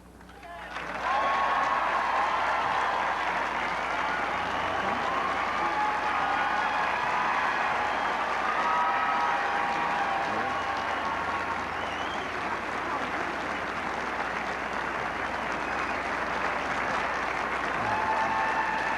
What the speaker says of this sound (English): Tremendous round of applause for Barbara Bush